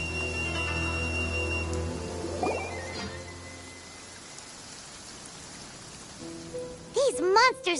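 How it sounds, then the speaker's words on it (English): Steady rainfall patters in a Genshin Impact downpour as a soft, continuous hiss beneath game music and voiced dialogue, with sparkling chimes rising near the end. "Taking a stroll in the middle of a downpour certainly rouses the spirit."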